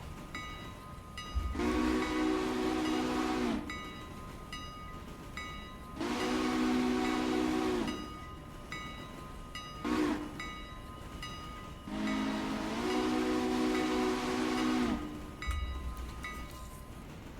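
Locomotive in the railroad simulation game Railroader sounding its horn in long and short blasts, a crossing-style pattern of four loud tonal calls over steady rolling train rumble, with no speech.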